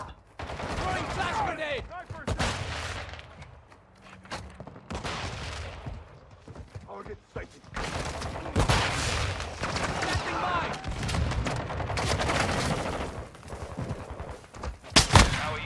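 Gunfire in the video game Call of Duty Warzone 2, with bursts of automatic machine gun fire and scattered shots and booms from several directions, while a player talks over the action.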